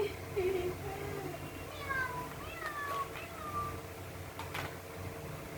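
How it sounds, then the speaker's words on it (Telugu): A cat mews several times in short, thin, rising cries at a moderate distance, heard faintly under quiet talk in a room. "నాకు క్యాట్ ఏడుస్తుంది డాక్టర్"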